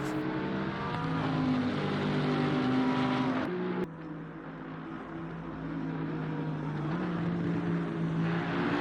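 A Bentley race car at Imola in the SimGrid racing game roars steadily at high revs, with a brief lift around a gear change before the engine note builds again. It sounds loud and continuous, with no talk.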